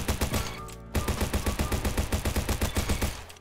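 Rapid automatic fire from a mini AK rifle in a video game, a loud, steady burst of closely spaced shots with a brief break before a long continuous string.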